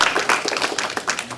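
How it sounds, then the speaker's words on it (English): A short burst of clapping from an audience at a business alliance gathering, a quick run of dense claps that tapers off within a second or so. "Round of applause, okay?"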